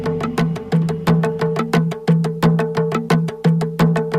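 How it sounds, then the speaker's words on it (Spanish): Computer-recreated drum sounds modelled on replicas of 4,000-year-old European drums play alone, with a steady rhythm of sharp, resonant hits and a low tonal ring underneath. "Este es un sonido de tambor que he creado con el ordenador."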